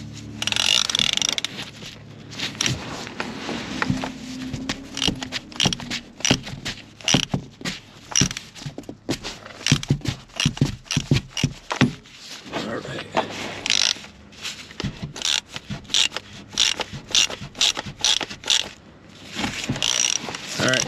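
Hand tightening of a spin-on oil filter on a 2024 Kia K5, with irregular close clicks, scrapes and ratcheting rattles from the tool and filter, interrupted by bursts of speech.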